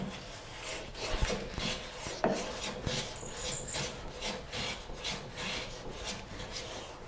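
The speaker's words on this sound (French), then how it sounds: "je vais passer le rabot en venant par ici" A Rali 220 Evolution hand plane shaves a wooden board in a run of rasping strokes, with a few sharper knocks as the blade catches, close and moderately loud with no voices.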